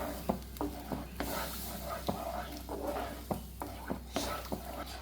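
A milk mixture being stirred in a pan for an egg dish, with soft, repeated scraping strokes of a spoon at a steady rhythm, close and quiet, with a faint sizzle underneath.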